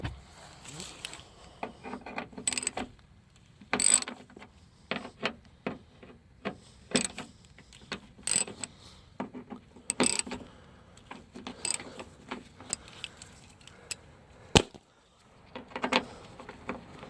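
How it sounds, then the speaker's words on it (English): A ratchet driving a T30 Torx bit loosens the door latch unit on a 2011-2015 Hyundai, sounding as short bursts of close, crisp clicking separated by pauses and faint handling noise. "We got a T30 Torx, and we're going to get the latch"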